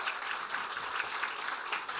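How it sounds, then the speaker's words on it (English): Sustained applause from a crowd, steady clapping filling the whole moment. "give them a round of applause"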